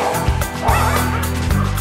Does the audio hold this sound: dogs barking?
yes